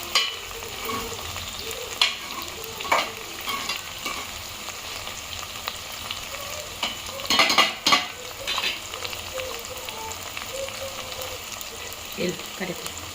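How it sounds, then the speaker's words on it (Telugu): Sliced onions fry in hot oil in a pot for a Telugu pappu charu, a steady close sizzle broken by scraping stirs and the clink of a utensil against the pan, with no talk. "ఉల్లిపాయలు ఆయిల్లో మంచిగా గోల్డ్ కలర్ వచ్చే వరకు వేయించుకోవాలండి."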